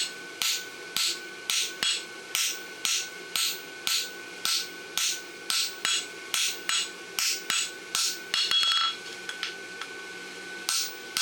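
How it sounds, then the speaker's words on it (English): Hammer blows on a hot horseshoe at the forge while making a lateral extension bar shoe, a steady run of sharp ringing metallic strikes about two per second, close and loud, with no talk. "So as it's cooling down, you can start to get heavier with your hammer"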